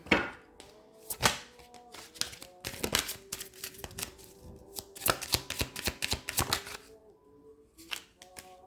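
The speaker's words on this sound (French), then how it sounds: "Je vais tirer une dernière carte pour vous." Tarot cards are shuffled and drawn for a love and life reading: quick riffling snaps and flicks of card stock come in dense bursts with brief pauses, close to the microphone, and no one talks.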